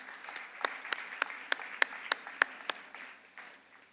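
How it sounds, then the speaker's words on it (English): A short burst of scattered clapping from a small crowd at a graduation ceremony, about a dozen distinct claps fading out after a few seconds. "A big round of applause and heartfelt appreciation"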